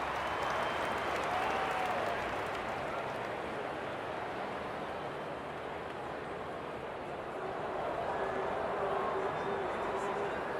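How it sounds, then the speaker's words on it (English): A stadium crowd roars and cheers in the AFL 26 video game during a Carlton versus Sydney Swans finals match, a dense sustained wash of noise that swells again near the end. "The crowd noise tells you all you need to know."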